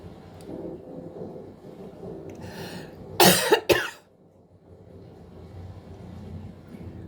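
A person coughs twice in quick succession, close and loud, breaking into an otherwise quiet room.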